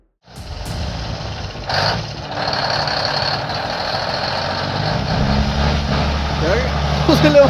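A convoy of heavily loaded logging trucks, Peterbilts, Volvos and Kenworths, grinds uphill with deep engine drone, a hiss of air brakes and reversing beeps, while a voice talks over the traffic noise.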